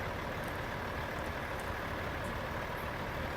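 A Kenworth W900 truck idles on a Dalton Highway trip, a steady, dense diesel rumble that holds evenly for the whole stretch with no voices over it.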